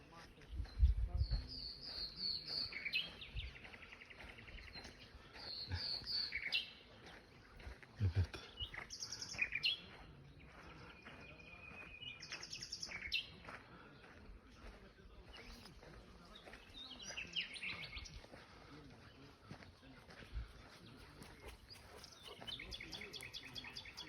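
Nightingales sing in Cappadocia, faint whistled phrases and trills recurring in the distance while a small group of people talks nearby.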